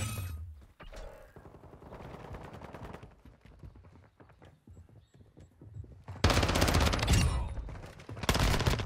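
Call of Duty Modern Warfare II gunfire with a VEL-46 SMG setup: rapid automatic bursts crackle under game noise and background music, then two loud, dense bursts of close automatic fire near the end.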